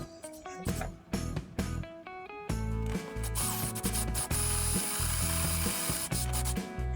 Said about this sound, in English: then I change out the spade bit to a little size bigger